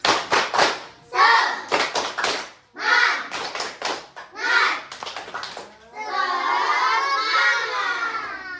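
Schoolchildren in a classroom do a rhythmic spirit clap, sharp clustered hand claps in quick bursts alternating with their chanting voices, ending in a sustained group vocal.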